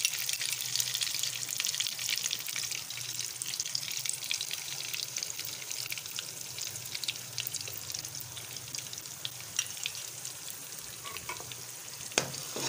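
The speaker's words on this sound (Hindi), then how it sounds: "अब हमने अंडे को थोड़ा सा फ्राई करना है इसी घी में" Eggs frying in ghee in a pan for carrot halwa, a steady bright sizzle with faint crackles running throughout, close and continuous with no talking.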